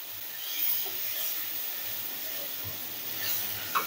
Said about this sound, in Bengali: হালকা একটু পানি দিলাম।